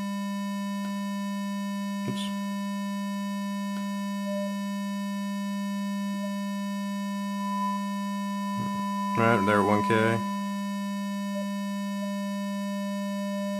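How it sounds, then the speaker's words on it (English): Square wave run through an EQ frequency sweep: a steady tone with a hum beneath, small harmonic blips popping up at intervals, then a bright warbling burst of overtones near the end, with a brief spoken remark. "So you heard as I got to certain frequencies, we heard a little blips, little signals jump up"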